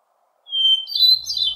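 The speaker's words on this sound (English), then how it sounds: "the song of the hermit thrush has been researched quite thoroughly" A hermit thrush sings one clear phrase, a steady high flutelike whistle opening into rising, fluttering notes, heard alone and fairly close with no voices.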